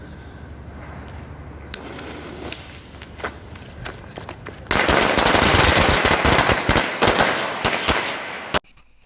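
A firecracker packet goes off on New Year's Eve with a few scattered pops, then erupts into a loud, rapid, crackling barrage of bangs. The bursts last several seconds and end in one final sharp crack.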